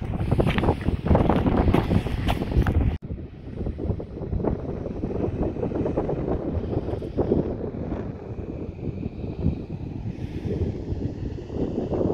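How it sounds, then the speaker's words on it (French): Light wind buffeting the microphone on a small hilltop in Spain, a continuous low roar, fairly loud, with an abrupt cut partway through before the gusting carries on. "Un petit peu de vent, je sais pas si vous l'entendez."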